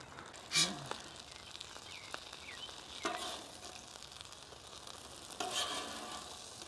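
Food on a flat top griddle sizzles quietly and steadily, with a few sharp scraping clanks of a single spatula as pieces are flipped, heard up close.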